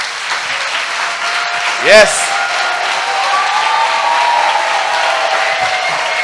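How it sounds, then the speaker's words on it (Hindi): Congregation clapping together for Jesus at a Hindi-language church prayer service, a steady wash of applause running throughout with a brief louder burst near the start and a voice heard over it. "क्या ऐसा हो सकता है हम जोरदार यीशु के लिए ताली बजाएं?"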